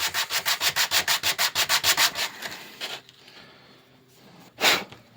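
Rhythmic back-and-forth rubbing of sandpaper on a wooden lyre bridge, a quick run of strokes, then a pause and one last scrape.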